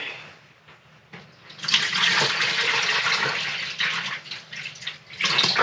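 Water rushing and gurgling as it is poured and flushed down an RV toilet into the waste tank, starting soft then swelling into a loud, sustained splashing gush up close.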